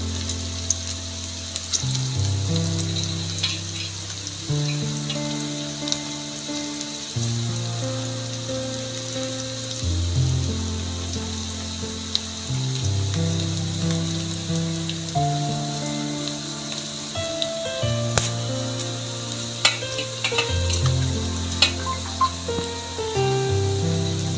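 Masala sizzling and frying in a pan for boti (tripe) curry, a dense continuous crackle with occasional scrapes of stirring, close and fairly loud throughout.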